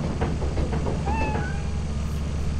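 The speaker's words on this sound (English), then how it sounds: "You can pet the cat." A cat in the video game Lethal Company lets out a short, clear meow midway, heard over a constant low rumbling game background with no talking.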